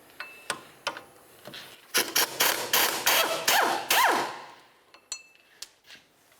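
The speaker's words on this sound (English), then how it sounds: "use a 14mm with an extension and go ahead and remove them all" A ratchet with a 14mm socket and extension backs out hub bearing mounting bolts on a 1999-2003 Toyota Solara, giving sharp clicks that run into a steady burst of loud, close ratcheting before tapering to a few last clicks.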